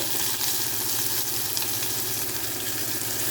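Okra fries in a little oil with a steady, dense sizzle that holds at the same level throughout, close and unbroken, with no voices over it.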